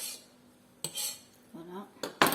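A utensil stirs a cornstarch and avocado mixture in a pan over low heat, with a few separate clinks and scrapes against the metal. A brief faint voice-like tone sounds between the clicks.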